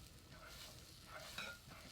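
Hoe cake batter frying in a skillet at a colonial living-history camp, a faint, steady sizzle with a soft scrape partway through.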